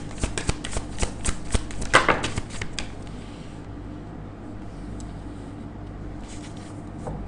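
Tarot cards are shuffled in quick, crisp riffling bursts up close, then a few soft slides and taps as cards are drawn, followed by quiet room hum.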